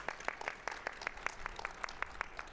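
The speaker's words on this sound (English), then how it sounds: "Let's give them a round of applause." A small crowd claps steadily at a charity gala sponsor acknowledgment, the individual hand claps distinct and evenly paced, moderately faint and without voices over them.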